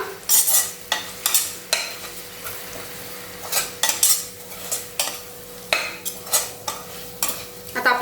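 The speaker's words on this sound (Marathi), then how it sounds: "व्यवस्थित मसाले सर्व परतून घेऊया" Spices with pav bhaji masala sautéed and stirred in a pan for moong masala rice, with repeated scraping spoon strokes against the metal over a low frying hiss, close and fairly loud.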